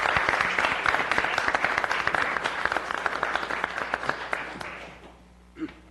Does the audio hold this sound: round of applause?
yes